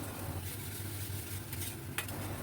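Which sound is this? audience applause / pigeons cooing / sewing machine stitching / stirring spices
stirring spices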